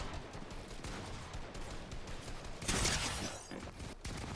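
Gunfire in a video game, a dense rattling burst of shots under continuous game noise, with one louder blast standing out briefly in the middle.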